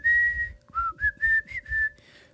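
Someone whistles a melody alone, imitating the whistled hook of a song, a series of clear sustained phrases with brief breaks, close and fairly loud.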